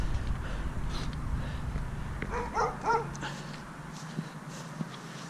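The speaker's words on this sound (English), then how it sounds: "How did you get to be such a good dog?" A dog whimpers and gives a few soft yips and barks at a dumpster diving scrap metal site, faint under steady outdoor background noise, with a footstep or two.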